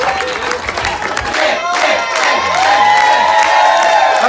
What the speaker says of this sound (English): Massive round of applause for all three contestants.